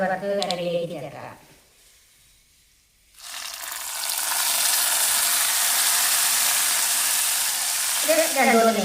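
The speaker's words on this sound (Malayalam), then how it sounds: "കടുക് വറുത്ത് കറിയിലേക്ക് ചേർക്കാം." A tempering of fried mustard seeds hits drumstick curry, bursting into a loud, steady sizzle after a brief quiet gap; a voice speaks briefly before it, and the hiss dies away near the end.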